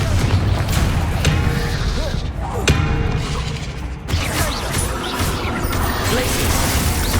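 Confringo blasting spells cast in combat in the Hogwarts Legacy video game, heard as repeated booms and crashing impacts over a thick, continuous battle din with whooshes and mechanical clatter, loud and close.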